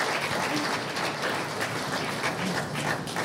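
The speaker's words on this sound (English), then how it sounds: "I should like to give a round of applause to the staff at Government House." At a senators' swearing-in ceremony at Government House, a crowd applauds the staff, a dense, even patter of many hands clapping that holds steady throughout without a break.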